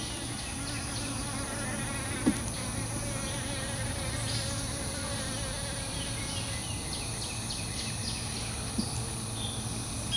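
Honey bees buzz continuously around a hive devastated by hive beetles, a dense, steady drone with a few faint clicks, close and unbroken, no voices.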